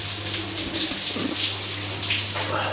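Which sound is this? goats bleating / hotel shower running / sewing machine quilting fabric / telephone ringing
hotel shower running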